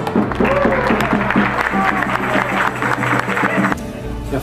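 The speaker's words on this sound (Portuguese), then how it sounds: "pode aplaudir as crianças" A crowd claps for the children at a Folia de Reis gathering in São Fidélis, the applause running loud and continuous under music and a voice before stopping abruptly.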